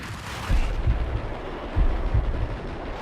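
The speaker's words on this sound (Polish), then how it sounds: "Czyli tam rzućmy granat." Grenade blast in the Max Payne video game, heard as two heavy, booming low thuds about a second apart over steady background game noise, with no talk.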